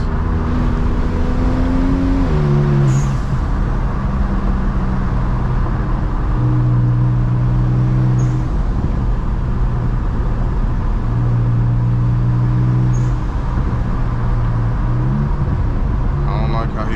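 A Stage 2 tuned BMW 335i engine hums steadily from inside the car on back roads, its pitch rising and falling with gear changes, while voices talk over the road noise.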